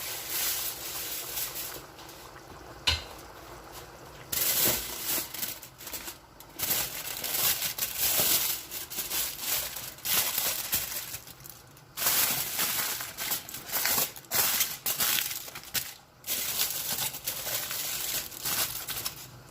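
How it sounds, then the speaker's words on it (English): Close, loud crinkling and rustling of aluminium foil being laid over a cooking pot in repeated bursts, broken by brief pauses, with no voices. "And then I'm going to cover with a foil paper."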